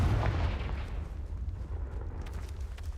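Confringo blast spell in Hogwarts Legacy, one deep booming explosion at the start that rolls off into a low rumbling tail, loud and close.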